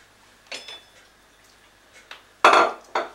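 A slotted spoon clinks and scrapes against a pan on the stove in a few sharp separate hits, the loudest near the end, with quiet pauses between them.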